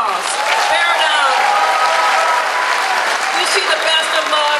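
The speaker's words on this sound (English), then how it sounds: "Give these young ladies and gentlemen a big round of applause." Clapping from an audience at a senior honors night runs steadily throughout, mixed with cheering or whooping voices that rise and fall over it.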